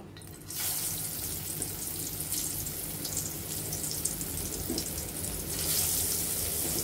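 Taro slices dropped into hot white oil in a wok burst into a loud, hissing sizzle after a brief quiet start, then fry steadily close by with a surge near the end.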